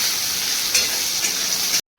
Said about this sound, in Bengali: গ্যাসটা কমিয়ে কমিয়ে ভাজবো।